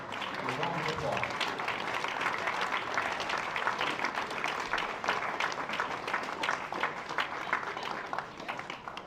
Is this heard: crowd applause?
yes